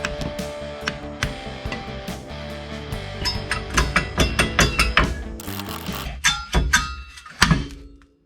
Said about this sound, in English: pulling on this and hammering on the face